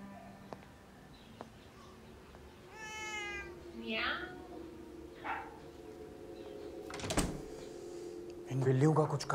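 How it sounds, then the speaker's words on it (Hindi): Cats meow indoors, two or three drawn-out, mid-distance meows spaced a second or so apart, with faint background noise and a person talking near the end. "इन बिल्लियों का कुछ करना पड़ेगा"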